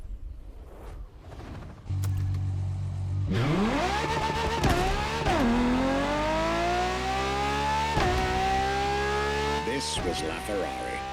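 A Ferrari LaFerrari supercar in The Crew Motorfest revs up hard, its engine note climbing through several gear shifts in a loud, close, rising whine.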